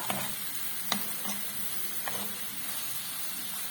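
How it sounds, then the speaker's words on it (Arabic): Beef fat and onion melt together in a pan for msemen, giving a soft, continuous sizzle and hiss at close range, broken by a few sharp crackles and pops. "انا بغيت ندوبها مزيان، ندوبها هي والبصله"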